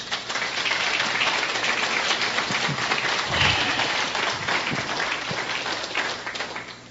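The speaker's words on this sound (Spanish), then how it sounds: "Den un aplauso fuerte al Señor." A church congregation applauds steadily at a sermon, dense sustained clapping filling the whole stretch at even loudness with no voices breaking through.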